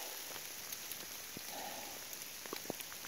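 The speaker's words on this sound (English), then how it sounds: "All right, let's walk in the rain." Rain falling on a hiking trail along the Appalachian Trail near Walker Gap, a steady, even hiss of rainfall with scattered drips and small taps up close, unbroken throughout.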